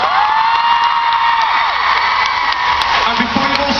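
A live crowd at a Dan and Phil creative-process panel erupts in sustained cheering, whooping and clapping for the panellists, a dense, loud, continuous roar with scattered shouts and voices mixed throughout.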